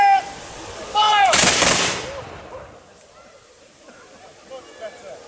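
A single loud volley of musket fire from a military reenactment drill at Falkland Palace in Fife, Scotland, bursting after a shouted command and fading into quiet outdoor ambience with faint voices.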